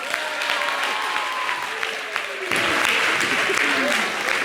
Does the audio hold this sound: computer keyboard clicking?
no